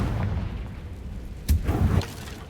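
Confringo explosion spell cast in Hogwarts Legacy, a deep booming blast with a sharp burst and rumbling tail over a low continuous game ambience.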